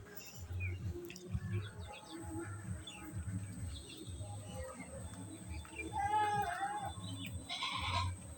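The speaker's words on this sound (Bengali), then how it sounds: "ওইদিকে ঘরে ছাগল উঠে আসছে" Goats bleat near a village house, a few calls standing out over steady low rumbling background noise, with birds chirping faintly now and then.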